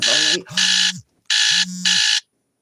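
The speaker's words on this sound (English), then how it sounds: "my alarm just went off and I jumped out of my skin." An alarm sounds in four loud, steady electronic beeps, paired in two bursts separated by a brief gap, harsh and close with nothing else heard.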